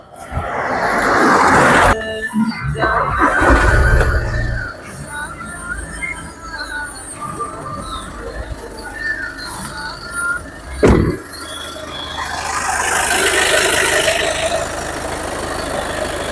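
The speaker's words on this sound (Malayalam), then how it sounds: "ഇനി നമുക്കിത് സ്റ്റാർട്ട് ചെയ്ത് ഇതിൻ്റെ സൗണ്ട് ഒന്ന് കേൾക്കാം" A car engine cranks and catches, then settles into a steady idle hum, with a brief sharp knock partway through and the idle continuing to the end.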